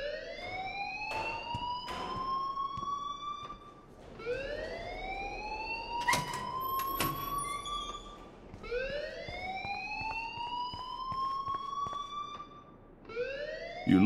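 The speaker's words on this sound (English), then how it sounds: "please turn off that alarm since that's your job." A rising, repeating wail sounds in Life Is Strange, sweeping upward in roughly four-second cycles like a siren, moderately loud and continuous with scattered clicks beneath it.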